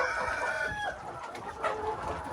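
Hens clucking steadily on a small farm where the laying flock eats straw and alfalfa, with a few overlapping calls and a brief crow-like rise near the end, all close and fairly loud with no talking.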